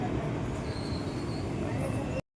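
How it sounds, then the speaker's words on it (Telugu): Tiruvannamalai–Narsapur special train, a loco-hauled service, rumbles steadily and fairly loudly at close range with continuous low rolling noise and faint high wheel squeal, ending abruptly. "ఈ ట్రైన్ అయితే తిరువణమలై నుంచి వెళ్ళి నర్సాపూర్ వెళ్ళేది"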